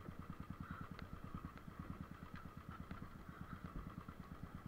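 A Royal Enfield motorcycle engine idles with an even, rapid thumping pulse, steady and fairly close, with no voices.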